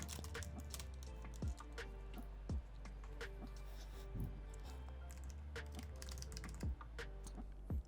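Computer keyboard keys tapped in quick runs as card details are entered, a steady stream of light clicks with a few louder strokes, heard close up over a constant low hum.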